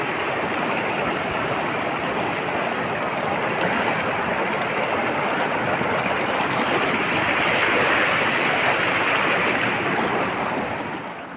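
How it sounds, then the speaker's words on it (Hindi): Baspa river water rushes around rocks in a dense, continuous roar, loud and close, with no voices over the steady flow. "नदी के बीचों बीच बैठ के नदी के पानी की आवाज़ में थोड़ी देर मेडिटेशन करने के बाद"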